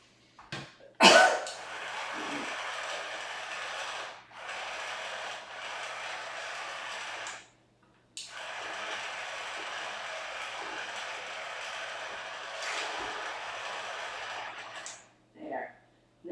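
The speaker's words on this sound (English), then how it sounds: "I use the Cuisinart, and then I stir it all up" A Cuisinart food processor whirs steadily while blending tomato soup, two long motor runs of even whirring broken by a short pause, with a brief cough-like sound near the start and faint clatter at the end.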